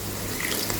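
Half a glass of water poured into a pan of chicken macaroni, a brief steady splashing stream close by, heard alone.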